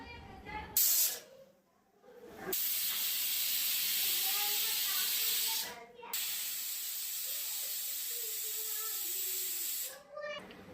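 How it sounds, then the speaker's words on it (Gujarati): Loud, steady hissing of steam escaping a pressure cooker of barnyard millet khichdi, broken by a few brief pauses, with soft background sounds underneath. "કુકરમાંથી વરાળ નીકળવા દેશું"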